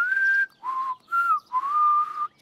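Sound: whistling with lips

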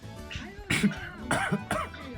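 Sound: coughing

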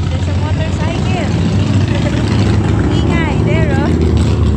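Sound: motorcycle passing by

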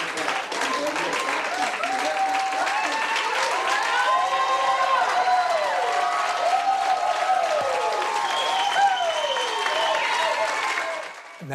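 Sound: audience applause

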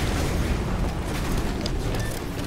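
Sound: arc grenade explosions in video game Titanfall

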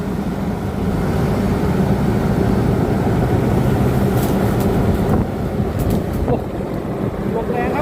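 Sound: strong wind blowing in a sugarcane field

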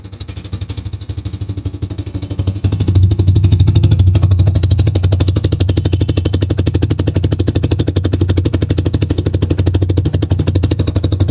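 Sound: Bajaj Freedom 125 CNG motorcycle engine running

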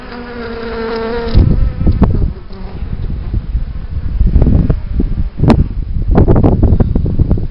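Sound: worker bees buzzing on the honeycomb

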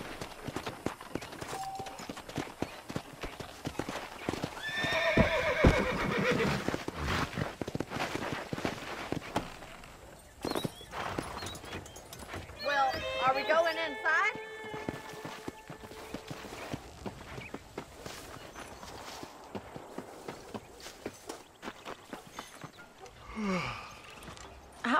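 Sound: horse hooves clip-clopping and neighing, Red Dead Redemption video game

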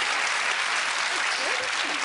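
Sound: applause

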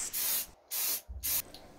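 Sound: spray painting from a can

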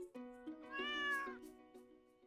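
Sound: cat meowing in the video game Stardew Valley

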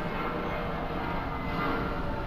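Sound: airplane flying over in video game Shadow of the Colossus

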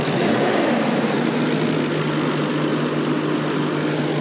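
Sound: 1993 Nissan Skyline GT-R RB26 engine revving

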